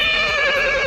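A horse whinnies loudly and close by on a hail-covered forest mountain trail in Mongolia's Hanggai Mountains, one sustained high neigh filling the moment.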